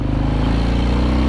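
A 2020 Harley-Davidson FXDR motorcycle accelerates on a test ride, producing a loud, close, steady engine drone with a pulsing exhaust rumble throughout the brief moment.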